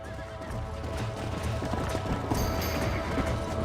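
Horse hooves clip-clopping steadily alongside a loud whinny in the video game Red Dead Redemption, with gunfire-like cracks and a busy game soundscape behind, no talk over it.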